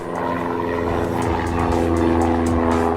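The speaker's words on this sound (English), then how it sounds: "I'm going to be impacted by the sound of an airplane" A steady, loud drone of an airplane engine with a low propeller hum that swells slightly as it passes overhead near Rocky Mountain Airport, Colorado, no voices.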